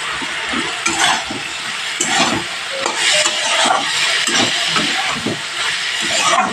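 Malabar spinach with chopped tomato is stir-fried in a pan over a medium flame, producing a steady sizzle broken by frequent scraping strokes of the spatula.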